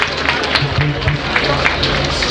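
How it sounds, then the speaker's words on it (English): Crowd applause welcoming Philip Shaibu, the Right Honorable Comrade, at an anniversary celebration; dense, steady clapping from a large gathering, mixed with crowd noise and a low musical or voice hum underneath. "Can you please make him welcome with rounds of applause?"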